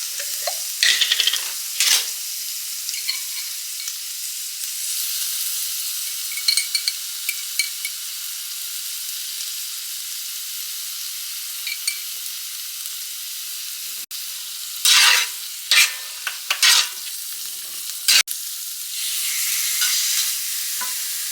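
Pickled jalapenos stirred in a hot pan while cooking a Mexican lasagna with leftover beef, giving a steady sizzle with scraping stir strokes, louder bursts near the start and again around the middle-to-late part.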